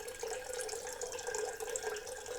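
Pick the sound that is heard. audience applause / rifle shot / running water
running water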